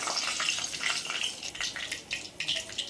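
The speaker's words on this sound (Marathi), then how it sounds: "तेल गरम होता बरोबर आपल्याला याच्यात टाकायचं आहे अर्धा चम्मच मोहरी मस्त तडतडू द्यायची आहे" Mustard seeds and cumin crackling in hot oil while cooking a cauliflower curry, a brief bright sizzle with rapid small pops close by, alone without talk.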